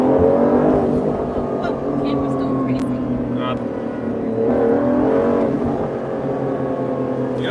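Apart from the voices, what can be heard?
Aston Martin DBS Superleggera Volante engine revving, turbochargers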